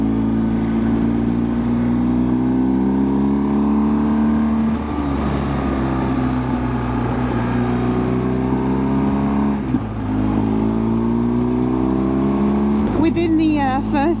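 A motorcycle passes on a mountain pass road in Portugal, its engine note rising and falling with changing revs, steady and fairly loud throughout, with a brief dip near the middle and a burst of higher-pitched sound at the end.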